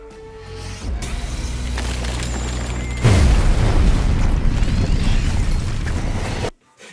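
Explosions blowing away a thousand cats in an Unreal Engine game: a loud, sustained rumbling blast that builds, then bursts harder into dense crashing debris for several seconds before cutting off abruptly.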